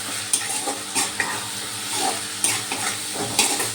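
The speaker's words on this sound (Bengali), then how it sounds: "এবার ভালো করে কষিয়ে নেব।" Ginger paste and chili powder stirred and sautéed in a pan for a shrimp kofta curry, a close sizzle with repeated rhythmic scrapes and knocks of the spatula, no voices.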